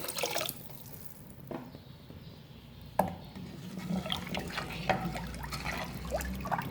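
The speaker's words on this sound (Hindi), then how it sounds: "पानी हम तकरीबन 6 गिलास ऐड करेंगे।" Water splashes and trickles into a cooking pot of whole green moong lentils, with a sharp clink at the start of the pour and uneven dribbling and dripping after it.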